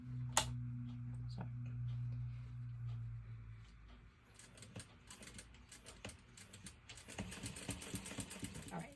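A sewing machine stitches down the top and bottom of a fabric crossbody bag, a steady motor hum for a few seconds, followed by scattered clicks and handling noises up close.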